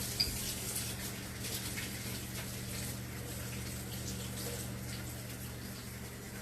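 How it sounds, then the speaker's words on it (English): Steady running water flows from a tap over hands being washed, continuous and moderately loud, with faint clinks of dishes in the background. "so I'm actually going to wash my hands"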